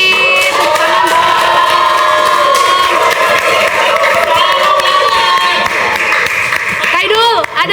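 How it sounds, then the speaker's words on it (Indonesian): Audience clapping and cheering in a radio podcast studio, a steady mix of claps and crowd noise running under continuous talking, with a brief sharp sound near the end. "Tepuk tangan dong."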